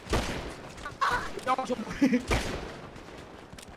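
GTA V gunfire cracks in several quick bursts and scattered single shots, close and punchy, while players talk excitedly over the shooting.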